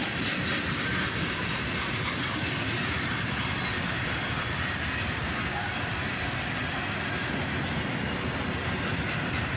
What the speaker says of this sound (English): the end of the train passes by us